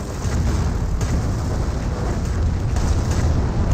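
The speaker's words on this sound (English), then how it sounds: "And now we've got another Calio Barrage raining on in." Calliope rocket barrage raining down in Company of Heroes, a dense, continuous roar of overlapping rocket blasts and rumbling impacts, loud and sustained throughout with no pauses.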